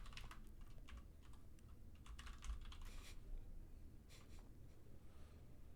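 Notes typed on a computer keyboard produce faint, quick clicking keystrokes in uneven bursts over low background noise, with no voice.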